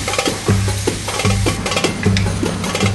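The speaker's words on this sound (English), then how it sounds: "I'm going to add the garlic." Garlic and red chilies hit a hot frying pan for chicken, giving loud, continuous sizzling with repeated stirring scrapes at a regular rhythm, close and clear with no talking.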